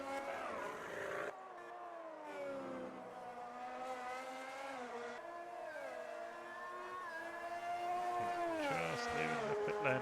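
A Formula 1 car pulling out of the pit lane at the Red Bull Ring in a racing video game, its engine a steady high whine that rises through the gears, moderately loud with no talk.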